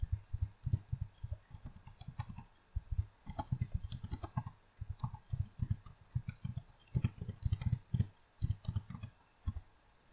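Rapid, soft computer mouse clicks and light taps come in irregular clusters throughout, close and quiet, with no talking.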